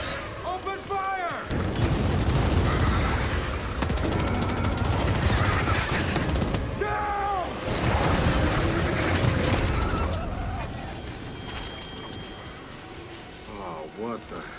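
Heavy, sustained gunfire and booming impacts in Gears 5 as players fight off a swarm, rumbling in waves under frequent excited talking and exclamations.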